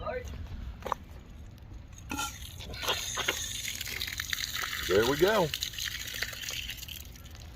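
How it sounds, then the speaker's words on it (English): Running water gushes from an outdoor hose bib, a steady splashing flow under a voice speaking briefly. "let's check and see if the hose bib over here works"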